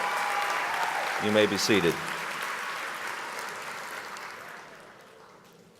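Applause from the audience at a spring college commencement ceremony fills the room as a broad, steady patter, someone briefly speaks over it, and the clapping then slowly fades away.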